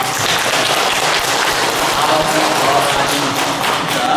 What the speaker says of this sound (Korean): 우리 한번 박수합시다